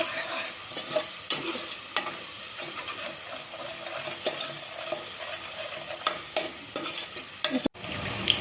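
Goat head curry spices frying in a pan: a steady close sizzle broken by repeated clanks and scrapes of a stirring spoon, with a sharp knock near the end.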